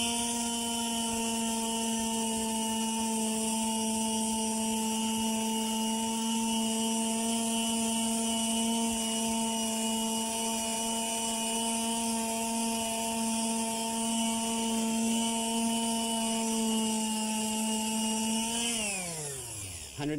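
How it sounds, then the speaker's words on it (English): A palm sander with 120-grit paper runs against painted house siding in a steady, loud electric whine with a buzzing hum that holds for about eighteen seconds, then winds down as the motor stops, with no talking. "This is a palm sander. We're going to try this now."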